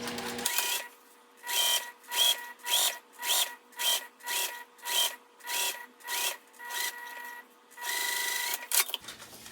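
A sewing machine bastes an exterior fabric piece of a travel pouch, running in about a dozen short, even stitching bursts separated by brief pauses, close and clear with no talking.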